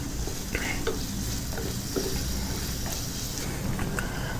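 Thick-cut potato pieces being stirred into sizzling masala for a masoor dal dish, with a steady fry hiss and scattered spoon scrapes close by.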